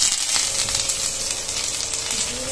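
Hot tempering oil with curry leaves, dried chilli and cumin is poured into a pot of kadhi, giving a loud, continuous crackling sizzle that holds steady close by with no voices.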